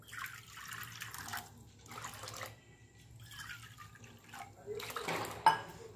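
Water is poured into buttermilk in short splashing bursts with quiet gaps between them, fairly soft and close.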